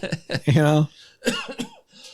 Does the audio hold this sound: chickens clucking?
no